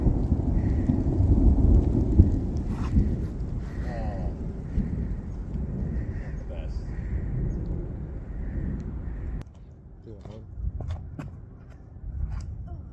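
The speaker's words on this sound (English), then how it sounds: "a thunderstorm is starting" Thunderstorm rolling in over an outdoor golfing spot, with a rumbling wash of rain and low thunder that drops off partway through, leaving quieter patter and scattered sharp taps.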